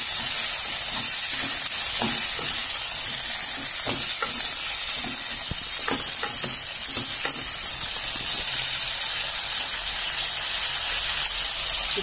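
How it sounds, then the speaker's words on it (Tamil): Green chillies and tomatoes fry in a pan for a seer fish curry, giving a loud, steady hiss and sizzle with scattered crackles and pops throughout and no talking. "பச்சை மிளகாயும் தக்காளியும் ஆட் பண்ணிக்கிறேன்"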